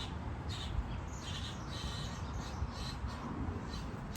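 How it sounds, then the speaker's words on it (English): Birds call outdoors, with several faint crow-like caws and chirps scattered through a steady background hiss, distant rather than close. "You can hear lots of birds out today."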